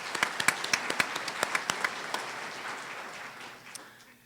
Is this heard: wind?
no